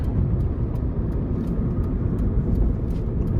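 A 2006 Nissan Sentra 1.8S Special Edition hums from inside the cabin as it gathers speed onto an interstate, a steady low engine and road drone with no distinct rev peaks, moderately loud with no talk.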